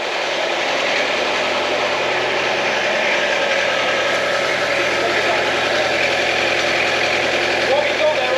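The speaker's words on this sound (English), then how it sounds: "I'll rev it." A Peugeot P4 engine runs steadily, heard close to the exhaust during a restoration check, a continuous mid-pitched drone with little change in pitch, so there is no clear revving.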